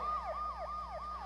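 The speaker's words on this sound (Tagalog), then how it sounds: "may wangwang" A siren wails in a fast repeating yelp, rising and falling three times, fairly faint and distant.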